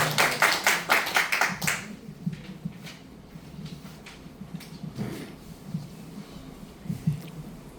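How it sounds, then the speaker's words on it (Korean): Brief, sharp clapping from a small audience at a small-business owners' forum, a quick burst of hands lasting under two seconds before fading into quiet room noise with soft shuffling and low murmurs. "유상희 대표님 뜨거운 박수 부탁드리겠습니다"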